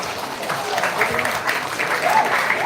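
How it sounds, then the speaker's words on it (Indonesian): An audience claps warmly and steadily after a Balinese drama gong performance accompanied by a gamelan ensemble. A few faint voices are heard beneath the applause. "Sekali lagi kami mohon tepuk tangan yang paling meriah Bapak dan Ibu."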